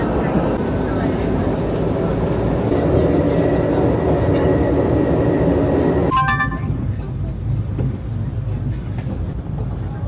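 A loud train rumbles along, then the roar drops away and high metallic squeals ring out as it slows, with voices nearby.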